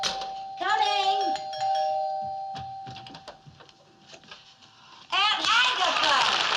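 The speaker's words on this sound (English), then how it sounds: "Yeah, the doorbell, someone at the door." A doorbell chimes indoors in a sitcom home, a clear ringing tone sounding at the start and again near the end, with voices talking in between.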